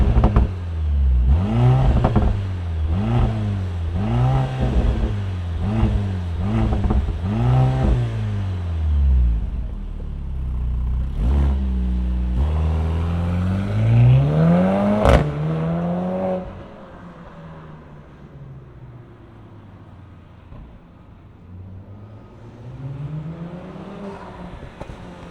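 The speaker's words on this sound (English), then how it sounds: "fire up this 4-banger turbo and hear what it sounds like." A 2024 Mercedes-AMG C43's turbocharged four-cylinder engine revs repeatedly in sharp, rising and falling bursts, loud and close, then settles into a lower, quieter idle hum toward the end; nobody speaks.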